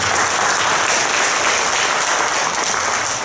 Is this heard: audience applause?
yes